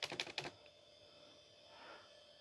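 A few quick keystrokes on a computer keyboard plugged into a vintage machine, a brief close cluster of clicks at the start followed by quiet electronic hum.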